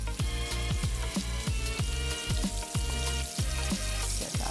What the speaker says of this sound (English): My favorite time of the day, deep frying.